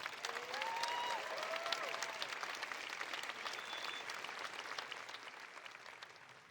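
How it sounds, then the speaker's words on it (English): A crowd of graduates at a 2023 Whetstone graduation ceremony applauds, a broad, steady wash of clapping heard from a distance that slowly tapers off, with a faint whistle or cheer near the start. "Give yourselves a round of applause."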